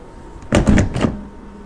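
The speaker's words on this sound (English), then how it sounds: "this door is rather difficult to open, and then secondly, it doesn't close for you. I have to do it myself." A 2023 Mercedes EQS car door is swung shut by hand, producing a short, close thud followed by a brief rattle as the latch engages, with quiet surroundings.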